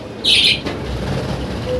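A pet bird gives one bright, sharp chirp near the start, close and loud, followed by quieter room sound.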